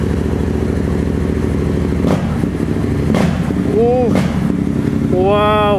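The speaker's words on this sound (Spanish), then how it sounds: "esta moto suena hermoso con escape abierto, nada que ver con el original" A motorcycle with a full exhaust system and remapped tuning rumbles loudly at a steady idle, then revs up sharply twice with a rising, throaty roar from an open exhaust.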